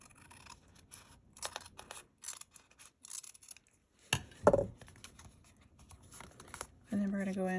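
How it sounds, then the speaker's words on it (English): Scissors snipping off excess craft material, a run of short close cuts with crinkling and rustling of the material in between, a louder snip near the middle, and a voice talking quietly through it. "so we'll cut off the excess for this"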